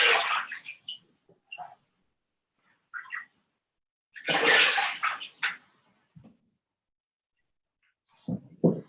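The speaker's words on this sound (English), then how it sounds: "please rinse your feet." Water splashes as feet are rinsed after a foot soak, with several irregular bursts of sloshing and dripping up close, separated by quiet gaps.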